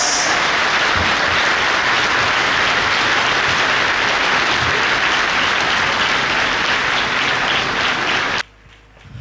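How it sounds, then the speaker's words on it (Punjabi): A church congregation clapping for the Holy Ghost, loud sustained applause from a large crowd that fills the room and then cuts off abruptly near the end. "Clap for the Holy Ghost."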